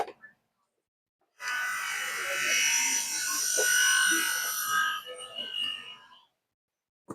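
A voltage stabilizer just plugged into mains power gives off a steady electrical buzzing hum that starts abruptly, holds for about five seconds up close, then fades and cuts off, with a faint click at the end.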